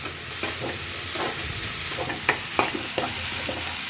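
Spinach mixture frying in a pan for a spicy spinach chutney, a steady close sizzle broken by irregular scraping spatula strokes and a few sharper clicks, with nobody speaking.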